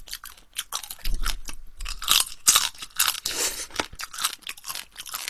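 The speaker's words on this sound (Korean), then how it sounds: "제가 반은 여기다 놓고 꼬리는 씹어 먹을게요" Crunchy soy-sauce marinated shrimp tail chewed up close, with repeated loud crisp crunches and bites in an irregular rhythm and no talking.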